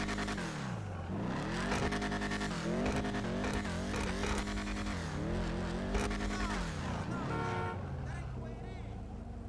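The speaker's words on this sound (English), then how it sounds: "It sounds like a beefy V8 for sure." Vapid Firebolt ASP muscle car in GTA Online with a beefy V8 sound, revving loudly and continuously, with tire squeal mixed in.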